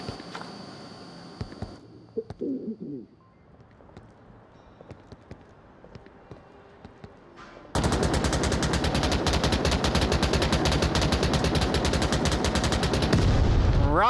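Gunfire in the VR shooter game Onward: a quiet stretch with faint scattered sounds, then a sudden loud run of rapid automatic shots that continues nonstop to the end.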